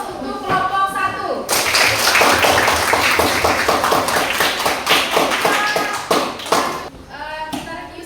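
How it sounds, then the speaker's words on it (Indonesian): A classroom group claps for group 1, a dense burst of applause from many hands starting sharply after a brief pause, staying loud for several seconds before thinning into scattered claps and voices. "kita beri aplaus untuk kelompok 1."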